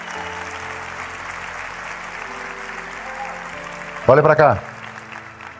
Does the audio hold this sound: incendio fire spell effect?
no